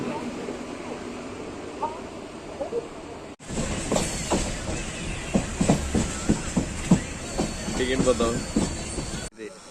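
A train rumbles past close by on a single-line track with rhythmic clattering wheels and hissing, starting abruptly after a quieter stretch with faint talk.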